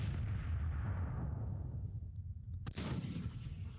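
Artillery bombardment in the Grand Tactician: The Civil War strategy game: a low rumbling roll of distant cannon fire fading over a few seconds, then a single sharp crack near the end, fairly faint with no talk.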